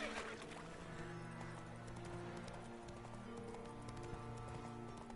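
Hooves of Roach, the horse in The Witcher 3 video game, clip-clop in a quiet, steady rhythm over a sustained tonal musical backdrop.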